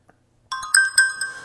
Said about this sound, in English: what you should hear right now is ringing coming in